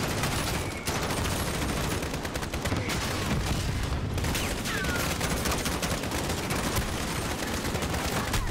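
Gunfire from the video game Call of Duty: Modern Warfare, a dense, continuous fusillade of rapid shots and bursts, loud and unbroken throughout.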